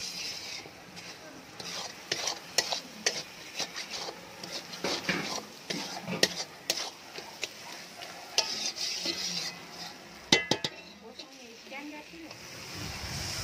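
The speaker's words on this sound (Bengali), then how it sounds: "তারপরে নুনটা দিয়ে বৌদি ভালো করে এই মশলাটা কষিয়ে নেবে।" Spice paste of turmeric, chili powder and salt stir-fried in a pan for biryani, with steady scraping and stirring clatter and a soft sizzle, moderately close.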